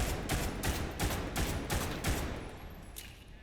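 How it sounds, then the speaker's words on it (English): Hope automatic pistol firing in the Grave/Digger video game: a rapid string of about seven sharp, loud shots over two and a half seconds, then a fading tail. "It's a really cool gun. Sounds pretty nice."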